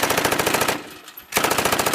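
Rapid cartoon gunfire rattles in two dense bursts of evenly spaced shots, loud and close, split by a short pause in an Awadhi comedy cartoon shootout.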